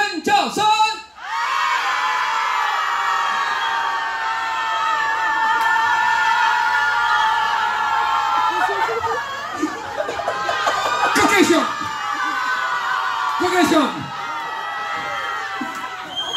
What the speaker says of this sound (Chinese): 好来哦，蔡军安的尖叫声。